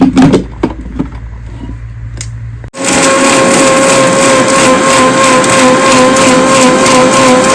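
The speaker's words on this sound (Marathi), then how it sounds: "मखाण्याची पावडर करते मी इथे" A kitchen mixer grinds roasted makhana (fox nuts) into powder, starting abruptly after a few soft knocks and then running as a loud, steady high-pitched whine and whir right up close until the end.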